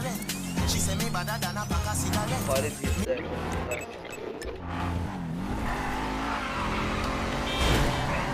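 A car driven in the video game GTA V revs and roars with tire squeals, its engine note rising and falling continuously over music while people talk.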